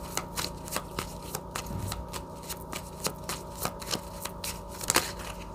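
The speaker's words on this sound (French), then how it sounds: "Je vais mettre encore une carte ici." Tarot cards are shuffled and handled close up, a run of crisp rhythmic riffles and slaps at a steady pace, with a card laid down near the end over a quiet room hum.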